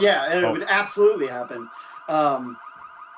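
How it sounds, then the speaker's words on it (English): Car alarm in the survival video game Project Zomboid wails with a steady, repeating electronic tone, running under and between players' voices talking over it. "Every car I touch has an alarm"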